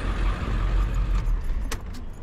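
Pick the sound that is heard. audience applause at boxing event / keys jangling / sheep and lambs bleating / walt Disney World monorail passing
keys jangling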